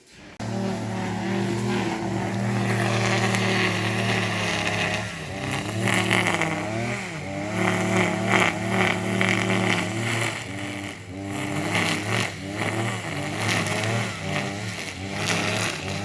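A car engine revs and pulls away at steady close range, its tone rising and falling through gear changes for the whole stretch with no talking over it.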